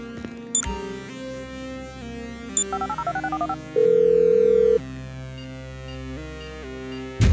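A phone call dialed in the video game Grand Theft Auto V: a loud electronic tone, then a quick run of short dialing beeps, a sustained steady beep about a second long, and a ringing tone over game music.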